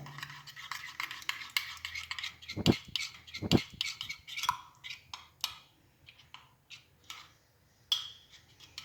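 A spoon stirs a thick homemade body scrub of used coffee grounds and honey in a small bowl, giving irregular scraping, clicking strokes close by and quiet, with a couple of sharper knocks against the dish.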